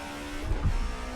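A 1990s DTM race car accelerates at Brands Hatch in the racing simulator Assetto Corsa, giving a short, fairly quiet engine surge lasting about a second.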